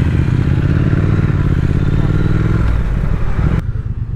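Motorcycle riding toward Chatsworth House, the engine a loud, steady close drone with wind rush throughout, easing near the end.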